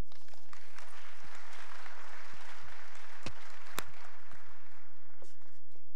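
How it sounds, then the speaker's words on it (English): Applause from a conference audience, a steady broadband clatter of many hands clapping that fills the room for several seconds, with a few louder individual claps standing out. "So, big round of applause, please."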